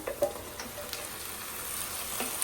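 Pieces of country chicken added to fried onions and green chillies give a soft, steady frying sizzle with a few light clinks and stirring knocks, close by and fairly quiet, with no one speaking.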